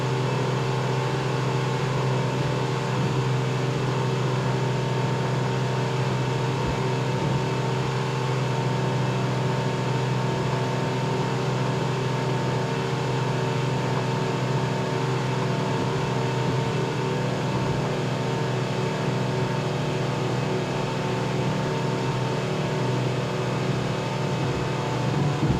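Onboard roar of a 24-foot Rhino race powerboat's engine at speed during a Daytona powerboat grand prix, a loud, constant drone with steady pitch that fills the whole stretch, no voices.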